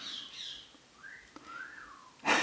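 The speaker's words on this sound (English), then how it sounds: "Oh my gosh, that bird is so loud." A loud pet bird gives a run of whistled calls with rising and falling sweeps, close and clear, followed by a sudden burst of noise.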